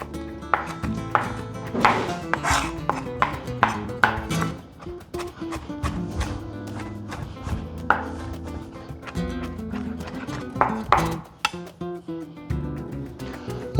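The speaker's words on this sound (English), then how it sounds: "I'm gonna take some fresh cilantro, chop it up." Knife chopping fresh cilantro on a cutting board for a corn dish garnish, a steady run of sharp, close taps with brief pauses and a few clinks, with no talking.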